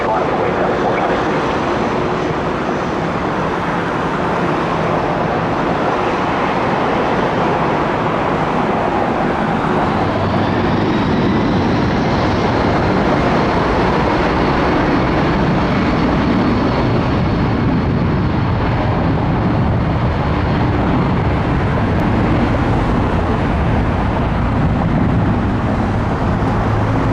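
An airliner rolls for takeoff on runway 9 left at Atlanta airport, a loud sustained engine roar that builds and holds, with a rising whine layered over broad rumbling noise.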